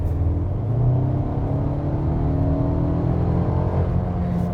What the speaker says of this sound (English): I put my foot down in comfort and it goes fast